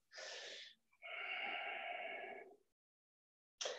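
Heavy breathing during a stretch and strength workout, with a short breath, a longer drawn-out exhale, a pause of silence, then another breath beginning, close and clear.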